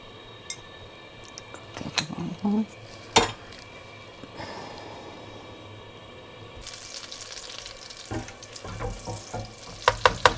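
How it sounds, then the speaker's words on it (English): Soft bubbling and sizzling of butter and oil in a wok, with scattered clinks and knocks of kitchen utensils and a brief burst of running water. "I've got my oil and my butter in the wok, bubbling away"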